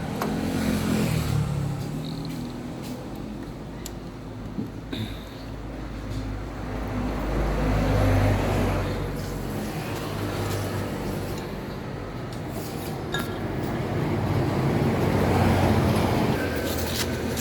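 A Motor Star 125 motorcycle engine idles steadily after a carburetor repair, a continuous low rumble with slight swells in revving, heard close with no talking.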